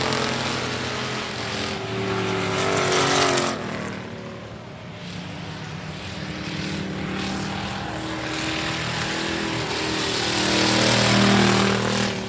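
Race cars at I-37 Speedway, a dense engine roar that swells and fades as the field passes, with a public-address announcer speaking over it.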